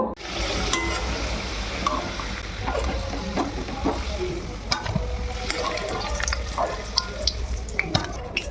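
Potato and cauliflower pieces frying in a pan, dense sizzling mixed with stirring scrapes and clatter, some dripping water and faint background voices throughout.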